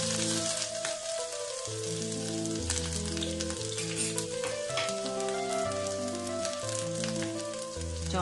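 Grated ginger frying in hot coconut oil in a pan, a steady crackling sizzle with scattered pops, under a continuous layer of background music.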